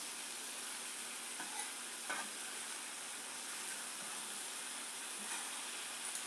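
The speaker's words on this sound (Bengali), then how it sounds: "আমি কিরকম ভাবে কাঁঠালের তরকারিটা রান্না করছি।" Jackfruit curry fries in a pan with a soft, steady hiss and sizzle that runs evenly throughout, fairly quiet, with a few faint stirring touches and no talking.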